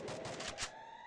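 A quick burst of about four gunshots in the battle royale game Free Fire, played in a 4v4 wager match, fires in fast succession and then cuts off into a faint lingering tone.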